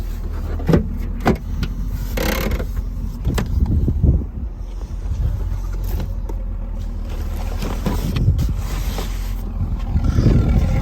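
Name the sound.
1983 VW Quantum Wagon exhaust idling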